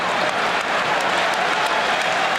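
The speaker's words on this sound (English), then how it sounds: "Crowd responding to the hustling, determined play of the Knicks" A basketball arena crowd cheers and applauds the Knicks' hustling play in a 2001 NBA playoff game, a dense and steady roar that fills the space without a break.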